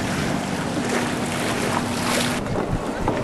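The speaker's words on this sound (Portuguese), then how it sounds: "Olha o mar como dá ondas." Sea waves wash and slap along the Venice waterfront under heavy wind buffeting on the microphone, with a faint steady hum and a dull thump near the end.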